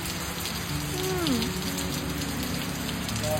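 Steady rain falls in the countryside during the rainy season, a dense close hiss of drops on surfaces throughout, with a short whistling tone rising briefly over it.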